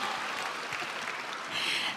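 A church congregation at a Bible recitation contest applauds a child contestant, a steady wash of many hands clapping throughout, swelling slightly toward the end.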